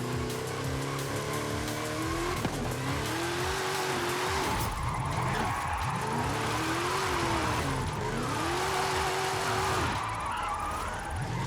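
Car tires squealing and skidding on a drift setup in Forza Horizon 5, with a loud engine revving continuously underneath. The pitch of the screeching rises and falls in sweeping waves as the car slides.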